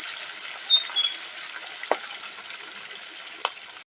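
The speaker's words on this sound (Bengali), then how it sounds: "ওইদিকে মাছগুলো ভেজে নিচ্ছি" Pieces of rohu fish frying in hot oil in a home kitchen, giving a steady, faint sizzle with a few soft pops and crackles, no talking.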